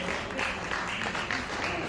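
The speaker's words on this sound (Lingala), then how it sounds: "Est-ce qu'on peut applaudir encore une fois?" Applause from an audience at a trophy ceremony, a dense continuous patter of clapping that stays at an even level, fairly close, with voices murmuring underneath.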